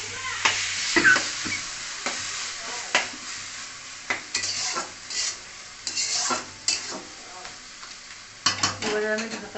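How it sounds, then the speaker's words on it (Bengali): Taro leaves and chickpeas are stirred and fried in a pan: a steady sizzle runs under repeated scraping strokes of a utensil against the pan, close and moderately loud. "এটাকে এখন ভালো করে নাড়াচাড়া করতে হবে।"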